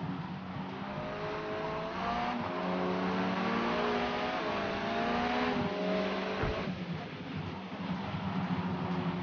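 An MG6 race car accelerates at full throttle on a wet track in a Forza racing game, its engine rising steadily through the gears, loud and continuous, with brief shifts and a mechanical whine.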